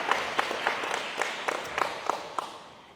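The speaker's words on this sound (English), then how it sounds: "please give our chief, our command staff, and all of our members of the Danville Police Department a round of applause" Moderate applause for the Danville Police Department at a graduation ceremony, a room of clapping hands with a few sharper individual claps standing out, tapering off gradually toward the end.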